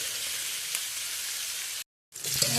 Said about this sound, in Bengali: এভাবে ভাজবো, ভেজে কালারটা একটু অন্যরকম হয়ে যাবে বেগুনের